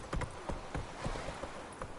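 The horse Roach gallops in The Witcher 3: hooves thud in a quick, steady, faint clip-clop rhythm with no talking.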